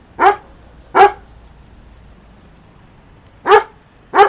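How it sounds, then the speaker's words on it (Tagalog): Four sharp, loud barks from a nearby dog, a pair and then another pair after a pause, are heard alone against quiet background. "Tingnan mo to, tumatahol, di ba?"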